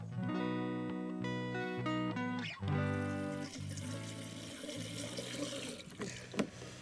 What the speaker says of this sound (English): fill my can up and I can water the garden